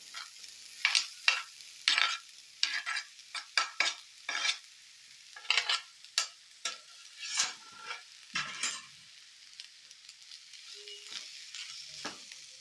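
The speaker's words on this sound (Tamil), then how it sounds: "இப்போ நம்ம ரைஸை சேர்த்து நல்லா மிக்ஸ் பண்ணிடலாம்." Rice being stirred into peas pulao in a pan: a long series of sharp, close spoon scrapes and rustling tosses in an irregular rhythm, quiet in between, fading toward the end.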